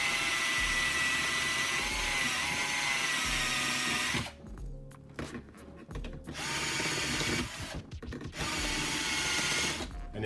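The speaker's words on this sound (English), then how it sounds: "keep going back in and using the drill to remove material" A power drill grinds steadily through material while fitting a Lexus IS250 rear center console into a GS300, its loud whine cutting out and restarting in short bursts with brief pauses between.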